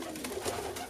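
Pigeons coo softly in a loft housing young birds, a low murmuring under steady background hiss, with a few gentle swells across a single short stretch.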